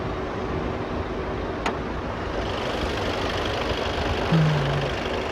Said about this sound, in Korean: 지금 현재 엔진 시동 걸어 있는 상태고